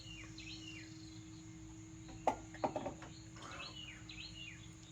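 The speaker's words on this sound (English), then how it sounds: "Birds seem happy this morning. They've been out there feeding." Wild birds at garden feeders outside, with faint scattered chirps and tweets over a steady insect-like hum, plus a few brief sharper calls near the middle, all distant and without talk.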